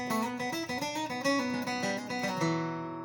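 A short guitar melody of single plucked notes moving stepwise, clear and close, ending on a sustained ringing note.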